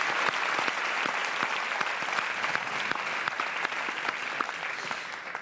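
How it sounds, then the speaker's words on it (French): A conference audience claps for the organisers of a social-change event, a sustained, full round of applause with distinct individual claps standing out over the steady roar. "Je vous demande si vous voulez bien de les applaudir"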